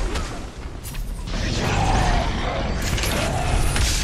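A giant robot's mechanisms in Marvel's Guardians of the Galaxy grind and clank with creaking metal and heavy impacts, loud and dense, swelling after a brief dip, with no speech.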